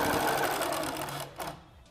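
A sewing machine stitches diagonal quilting lines with variegated thread, a fast steady mechanical hum and needle chatter that slows and stops, then a brief handling bump, close and alone.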